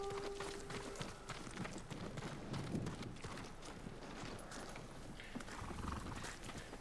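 Horses in the video game Ghost of Tsushima, with hoof clip-clops, snorting and a neigh over a steady ambient bed, fairly close and moderate in level.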